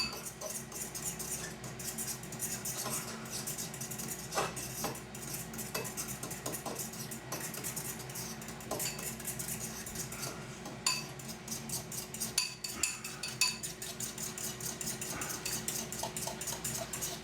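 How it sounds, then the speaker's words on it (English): A utensil scrapes and clinks against a bowl while panko and crab stick mixture is stirred, a steady run of soft scraping with scattered sharper taps, close and quiet with no talking. "And give it a mix."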